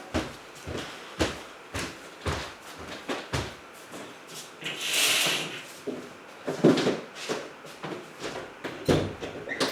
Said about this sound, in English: I'll close my door.